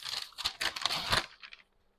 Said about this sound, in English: Y'all hear me turning the pages?